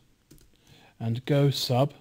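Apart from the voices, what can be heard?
typing on a computer keyboard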